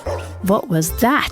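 A toy's dog bark sound from a children's farm-animal surprise box plays in short yapping bursts, with a voice asking a question over it.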